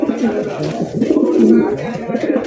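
Red spangle German shield pigeons cooing in a fancy pigeon collection, soft repeated throaty coos close by, overlapping with people talking.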